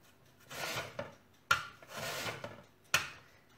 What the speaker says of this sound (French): Et vous allez râper.